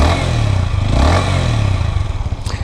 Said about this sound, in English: It just started and it's got a nice gentle rumble to it.